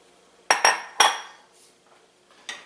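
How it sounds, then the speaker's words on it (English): An old, notched wooden spoon is knocked against the rim of a pan while corned beef hash with onion is made: three sharp, close taps in quick succession, then a pause and one more, with no talking. "one of my ancient wooden spoons that has notches on it, from tapping on the edge of the pan"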